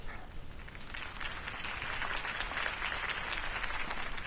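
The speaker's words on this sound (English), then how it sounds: "If only Mr. Wayne, my campaign's largest backer, could have heard that applause" A crowd applauds after a campaign speech at a rally in the game Batman: The Telltale Series. The clapping is steady and sustained, swelling slightly as it goes on.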